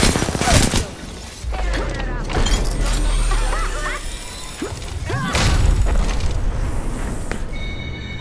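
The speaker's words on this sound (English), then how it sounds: "Oh god, what is that nade?" Grenade blasts in the Apex Legends video game, with sharp booming bursts near the start and again mid-way, mixed into busy game effects while players talk over them.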